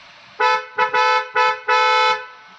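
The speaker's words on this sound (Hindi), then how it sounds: "फिर हॉर्न सुनाता हूँ आप लोगों को," A Hyundai Verna horn honks loudly five times in a choppy rhythm: short blasts, then a longer final one, close by.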